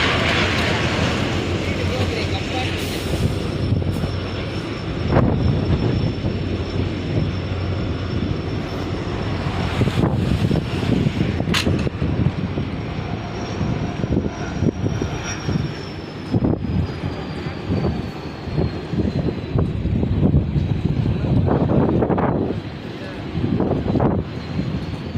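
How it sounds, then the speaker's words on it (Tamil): A train crawls across the Pamban bridge at about 20 km/h, a steady broad rumble with a faint high tone lasting the whole stretch, with voices talking over it. "மினிமம் ஒரு 20 கிலோமீட்டர் ஸ்பீடில் தான் ட்ரெயின் உள்ளே கடந்து போய்கிட்டு"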